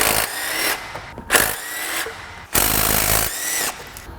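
A power tool loosens the 12 mm AC compressor bolts on a 2004 Acura TL's 3.2L engine, in four loud, close bursts of buzzing whir separated by short pauses, with no talking.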